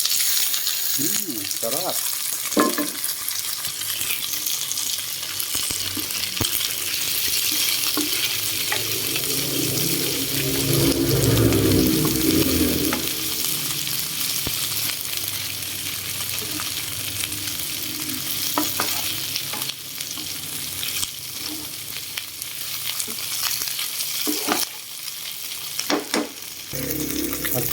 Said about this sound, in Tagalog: At ihalo na po natin ang tofu natin.